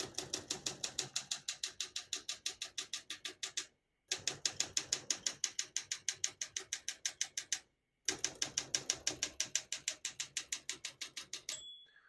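Rapid, evenly paced keystrokes on a 1967 Olympia SM9 vintage portable typewriter clack in three bursts separated by short pauses, ending with a bright margin bell ding near the close.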